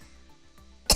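A single short cough near the end, close and sudden after near silence.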